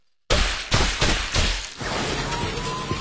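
Sniper gunfire rings out in the Sakamoto Days anime: a sudden series of four or five sharp, loud shots at roughly half-second intervals, each with a booming thud, followed by a lingering noisy rumble.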